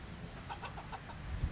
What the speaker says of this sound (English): And seeing a lot of chickens and guinea hens